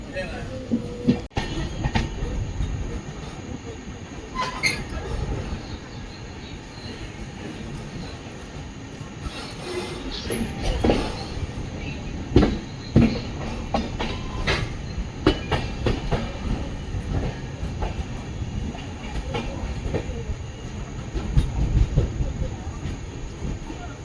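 The Hampi Express rolls from Mysore toward Hubballi, a steady rumble of an overnight passenger train heard from inside the coach, with clacking wheel joints and occasional sharp rattles, and voices talking now and then.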